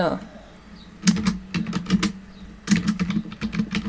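Computer keyboard typing while entering text in the Canva design app: two bursts of rapid, close key clicks over a low steady hum, with a short pause between them.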